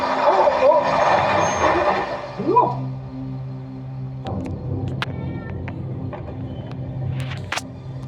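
A truck rumbles past close on a road, its engine loud at first then fading, followed by scattered beeps, clanks and street noise with some voices.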